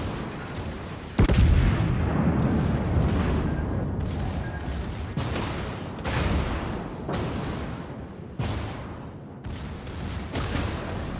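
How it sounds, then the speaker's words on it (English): Heavy battleship main-gun salvos boom in a naval battle game, the Tirpitz firing a series of loud, sharp blasts with rumbling tails, roughly every second or two, alone without talk. "Fire a salvo off in his direction."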